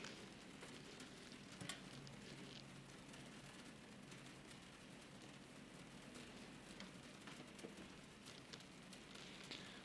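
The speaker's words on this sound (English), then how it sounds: "I see it's raining here as well." Steady rain falling in a flight simulator game with a Cessna C172 over Tasmania, a soft, continuous hiss of drops on a surface with faint scattered ticks, low and even throughout with no talking.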